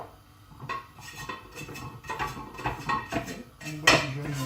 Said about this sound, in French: Et on badigeonne la poêle.